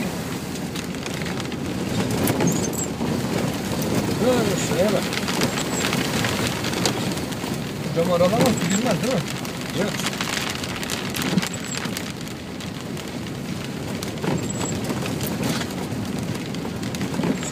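Steady rain falling in Çorlu, a continuous broadband wash with scattered drop impacts, heard through a car window while people talk nearby in the foreground.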